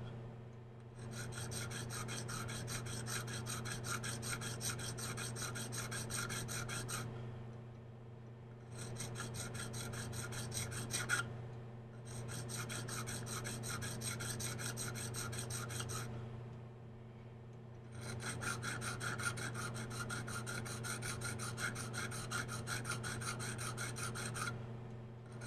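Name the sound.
sharpening knife serrations with KME tapered diamond rod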